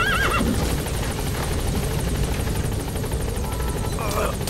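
A horse whinnies briefly in Metal Gear Solid V: The Phantom Pain near the start. Game noise follows, with a steady thumping rotor sound and a clatter of other effects.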